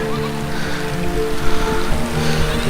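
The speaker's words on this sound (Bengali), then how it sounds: "বৃষ্টি হচ্ছে" Rain falling steadily over a village vegetable plot with yardlong bean vines on net trellises, a close, even patter on surfaces with a constant low hum beneath.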